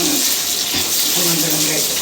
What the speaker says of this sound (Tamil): அந்த கருவேப்பிலை போடும்போது பொறிஞ்சு வந்துடும் பார்த்தீங்களா